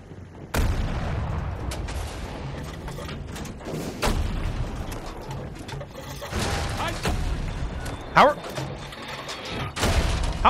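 Tank cannon firing high-explosive shells in Battlefield 2042, a series of heavy booming blasts spread over a noisy battlefield with mechanical rumble, plus a player talking and reacting throughout.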